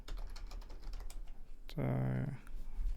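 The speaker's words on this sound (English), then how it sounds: "just type sudo" Computer keyboard typing a terminal command, quick soft key clicks under a voice, while a brief tonal beep or hum cuts in partway through.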